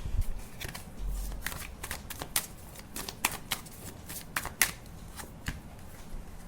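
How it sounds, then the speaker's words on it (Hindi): Tarot cards being shuffled and drawn by hand, with a run of crisp riffles and sharp flicks spaced irregularly, close and fairly quiet, no talking. "मैं कार्ड निकाल देती हूँ"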